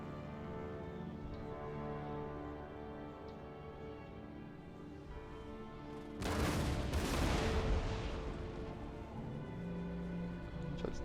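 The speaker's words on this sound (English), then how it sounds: "Thought I heard musket fire." Musket volley from massed line infantry in Empire: Total War, a dense crackling burst of shots about midway through, standing out over a low steady battle ambience.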